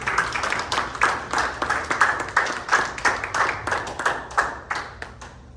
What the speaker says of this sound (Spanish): Un aplauso a la gloria de Dios.